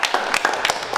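Children clapping for a classmate at a home learning centre: a quick, uneven run of several close claps lasting about a second.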